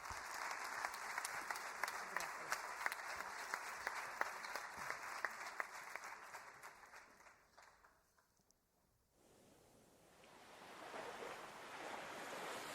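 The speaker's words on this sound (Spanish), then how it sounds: "Un aplauso muy grande, por favor, para esta mujer brillante, Ana Peláez" An audience at a talk gives a big round of applause, dense and sustained clapping that slowly fades out, followed by a quieter stretch of room noise.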